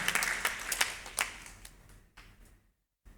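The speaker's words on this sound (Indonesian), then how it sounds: "Tepuk tangan yang meriah untuk Tuhan." A church congregation applauds during a Sunday worship service, with loud, quick clapping that thins out and fades into near silence by the end.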